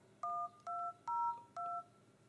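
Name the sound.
Motorola MOTOLUXE phone dialer keypad touch tones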